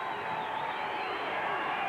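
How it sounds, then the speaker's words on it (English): Basketball crowd at a 1991 NCAA play-in game between St. Francis PA and Fordham, a steady dense roar of cheering voices filling the arena, continuous and fairly loud with no clear breaks. "The crowd really into it now."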